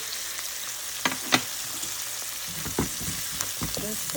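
Spices sizzling and frying in a pan for an egg dish, a steady close hiss with a few stirring clicks and a brief spoken word.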